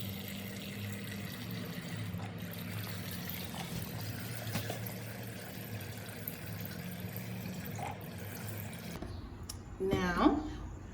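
Hydrogen peroxide is poured into a bottle for an elephant toothpaste experiment, a steady liquid pour under continuous background noise, ending with a brief louder gurgle near the end.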